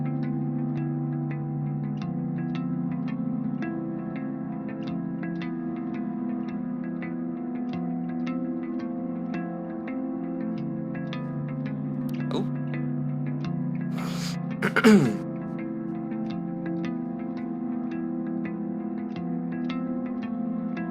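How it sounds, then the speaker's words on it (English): A sustained tonal mix washed in reverb, sounds blurring into long echoing tails, with a brief sharp transient near the end. "You see, there's a lot of reverb tail and everything."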